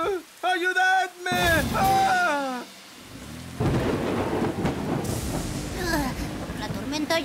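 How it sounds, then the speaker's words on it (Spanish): A cartoon thunderstorm in a children's animated show breaks out, with loud thunder rumbles and steady heavy rain filling the scene. A child-like voice talks and exclaims over the storm at the start. "La tormenta ya está empezando de verdad."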